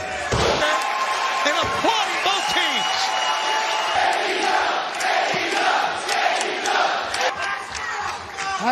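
Wrestling arena crowd at an AEW match roaring and applauding both teams after a tag-team exchange involving Dax and Wheeler, a dense, loud, continuous wall of cheering with whoops throughout, commentator voices underneath.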